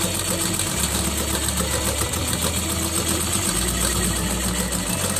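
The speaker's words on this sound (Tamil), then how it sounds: "இப்போ நான் தைக்கிறேன்." A sewing machine stitching fabric during a tailoring lesson gives a steady, close mechanical whir with rapid needle chatter, running continuously with slight shifts in motor pitch.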